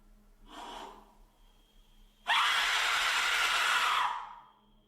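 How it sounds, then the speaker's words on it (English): A harsh, shrieking scream-like whistle from an Aztec death whistle bursts in loud and sustained for about two seconds, preceded by a softer breathy rush. "now it's time for a scream with an Aztec whistle"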